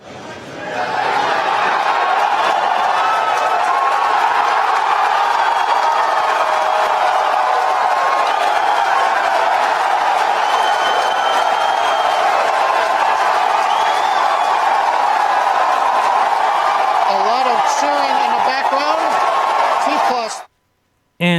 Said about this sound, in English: the cheering you hear is from employees who probably get a bonus for actually showing up and cheering like maniacs